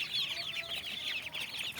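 Farm chickens cluck and chatter continuously while feeding on scattered feed and rice grain, a busy overlapping flock sound at moderate distance with no talking.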